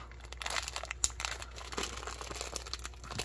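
A plastic MRE accessory pack from a Minotaur Trading Company steak and eggs ration is crinkled and torn open by hand, giving close, sharp crackling and tearing bursts.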